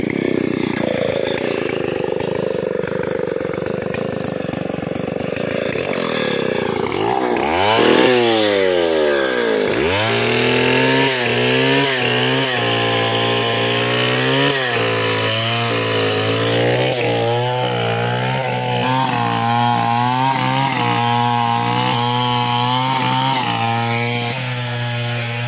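A chainsaw roars continuously through hard tree wood, its engine pitch rising and dropping as the bar bites and revs, loud and close for the whole stretch with no talk over it.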